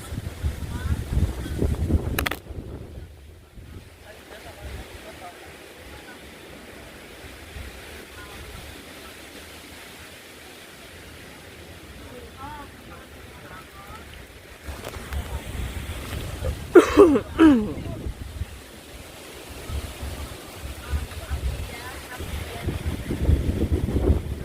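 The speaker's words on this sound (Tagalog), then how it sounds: "lakas pa ng hangin" Gusty wind rumbles and buffets the microphone outdoors on a hilltop in Iloilo, Philippines, rising in strong bursts, with water sounds and brief voices in the background.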